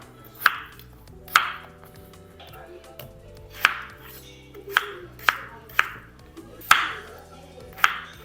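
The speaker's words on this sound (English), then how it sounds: "Chop them in half, try to make to small little bits, so it's easier for me to mash later." A knife chops vegetables in half on a board, about ten sharp, evenly spaced cuts heard up close against a quiet kitchen.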